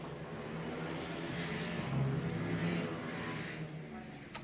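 Mini GP 140 motorcycles race at Rowrah just after the start, a steady blend of engines droning at middle distance under continuous commentary.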